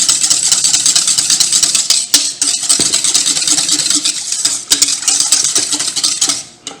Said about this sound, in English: We're going to just whisk all this up together here.